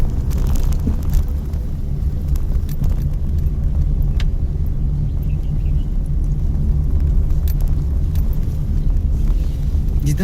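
A car drives along a hilly road, giving a loud, steady low engine rumble with wind buffeting the microphone throughout and no speech.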